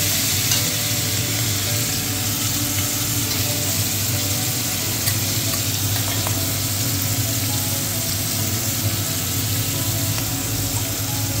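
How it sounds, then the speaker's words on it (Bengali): Salted hilsa fish and onions frying in oil in a wok, a dense, loud, unbroken sizzle heard up close for the whole stretch, with no speech. "নোনা ইলিশ আর পেঁয়াজগুলো লাল লাল করে ভেজে নেব।"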